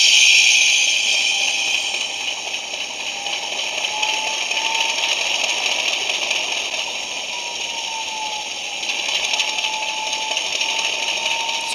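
A model train DCC sound decoder plays its diesel engine idle through a small iPhone speaker on a test track, giving a steady, tinny rumble with a faint rising and falling whine and no pauses.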